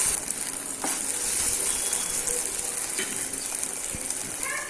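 Tomato ketchup sauce stirred in a hot pan for idli manchurian, a continuous close sizzle with occasional spoon scrapes and clinks, no speech.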